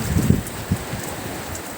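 Rain and gusting wind from a typhoon at a beach resort, heard as a broad steady hiss with low buffeting rumbles of wind on the microphone, loud and close, with no voices.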